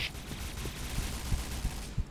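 Sustained gunfire in the shooter game Point Blank, a steady fusillade of distant shots with a few sharper, louder reports standing out near the end.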